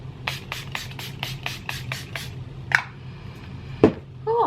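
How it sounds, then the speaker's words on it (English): A rapid series of about ten short spritzes of makeup setting spray onto a face in a steady rhythm, followed by a couple of isolated sharper sounds, close and clear. "I'm gonna spray my whole face."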